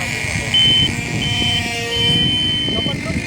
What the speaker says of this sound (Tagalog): whenever I flip the switch, the aileron, there, it will beep